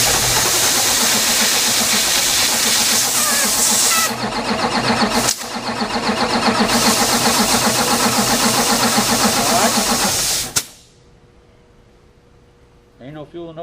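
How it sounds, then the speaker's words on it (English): A Cummins ISX diesel engine cranks over without fuel in a loud, steady starter churn with airy hiss for about ten seconds, briefly interrupted, then cuts off abruptly into near quiet with faint shop sounds. "Go ahead and crank her over."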